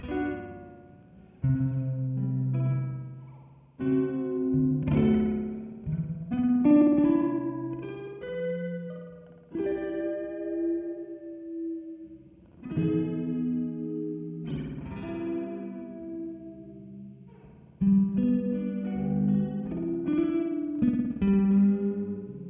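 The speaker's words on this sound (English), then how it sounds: "now you can hear that tail of the delays just kind of like pitch bending around" Synth or instrument phrases run through the Time Dilation delay plugin, with echoing delay tails that bend and warble in pitch, chorus-like and slightly distorted, recurring in bursts with brief gaps between them and no talking.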